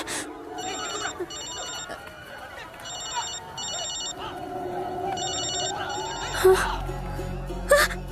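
A mobile phone rings repeatedly in paired electronic bursts during a tense movie scene, moderately loud over background ambience, with gasps and a low rumble near the end.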